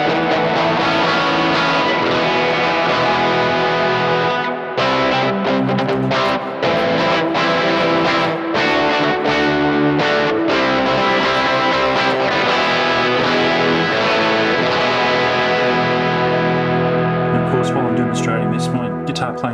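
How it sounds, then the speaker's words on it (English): A heavily driven electric guitar plays through a big reverb effect, its thick, distorted chords and notes ringing into a long wash, loud and continuous, with brief breaks between phrases. "that's my big reverb sound, which I quite like"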